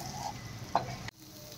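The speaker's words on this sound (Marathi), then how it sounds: "आणि त्याच्यावर फोडणी" Hot tempering (phodni) poured over rice for Nagpuri gola bhaat gives a brief loud sizzle and stir-like crackle under steady frying hiss, then cuts off abruptly.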